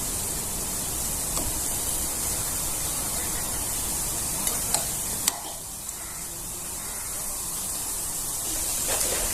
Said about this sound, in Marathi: इथं चमच्याने थोडेफार असे हलवून घ्यायचे खालीवर करून घ्यायची